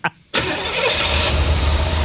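A neglected Chevy Corvette rescued from a Florida swamp fires up after a short pause and settles into a loud, close, rough engine roar as throttle is applied.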